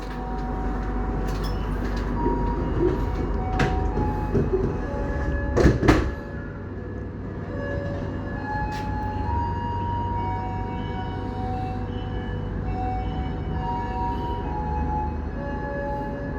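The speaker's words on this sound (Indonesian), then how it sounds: "kereta api Sembrani melanjutkan perjalanan dari stasiun besar" The Sembrani passenger train, made up of first-generation stainless steel executive coaches, pulls away from a large station and runs on, giving a continuous rumbling roll with steady tonal whine and a brief clanking burst midway.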